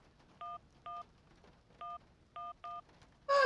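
Cell phone keypad tones in the video game Syberia: five clean dialing beeps spaced irregularly over a steady faint background, followed by a louder burst at the end.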